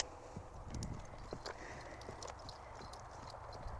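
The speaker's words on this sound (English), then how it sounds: "So I'm going to ask her to trot here." A horse trots on a lunge circle, hooves clip-clopping in a steady rhythm at close to middle distance, with faint rustling and no talk over the hoofbeats.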